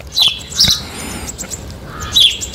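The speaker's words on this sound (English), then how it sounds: "Enjoying the birds singing to me." Bright bird chirps and tweets in short bursts, a few calls spaced apart, fairly close against a quiet outdoor background.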